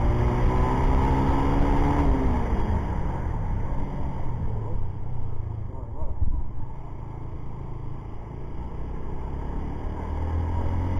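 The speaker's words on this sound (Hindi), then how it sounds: "इस बाइक को थोड़ा सा भगाते हैं।" Super Power Sultan 250cc motorcycle pulling away and accelerating, its engine rising through a gear change and then droning on with a steady rumble amid wind noise, close by.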